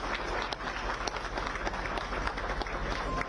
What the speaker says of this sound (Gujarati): આપણે સૌ જોરદાર તાળીઓથી વધાવતા રહીએ.